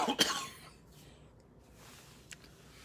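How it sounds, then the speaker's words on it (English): A man coughs sharply once near the start, then clears his throat faintly later on, close and otherwise quiet. "pardon me and my coughing and hacking and stuff"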